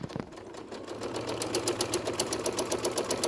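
A sewing machine does thread work on fabric, running fast with a steady, rapid pulsing rhythm throughout. The motor hum is close and fairly loud, with no voices over it.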